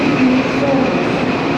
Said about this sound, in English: That's the train from Sydney